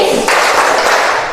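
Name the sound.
class clapping the tepuk PPK clap routine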